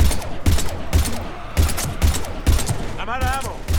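Rapid bursts of gunfire in the video game Mass Effect 3, evenly spaced loud shots repeating every half second, with brief voices and a warbling electronic sound near the end.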